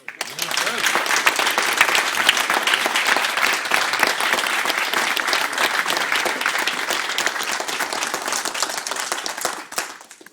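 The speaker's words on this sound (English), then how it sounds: "Give him a clap." Applause follows a taekwondo demonstration, a steady, close round of hand clapping from a small crowd that holds for about nine seconds before tapering off abruptly.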